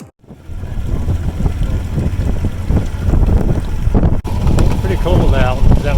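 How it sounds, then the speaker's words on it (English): Wind gusts outdoors beside a lake in the Wisconsin north woods, buffeting the microphone with a loud, continuous rumble that swells toward the end. "Cold out, that wind."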